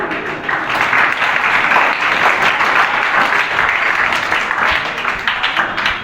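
A school audience of students claps loudly and continuously, many hands blending into a thick, even roar of applause that holds steady throughout.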